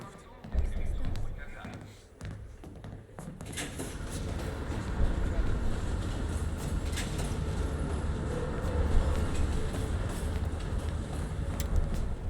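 Moving train in the Call of Duty: Black Ops Cold War game, a continuous rumbling rattle of wheels and carriages with occasional clanks, heavy and close, under talk.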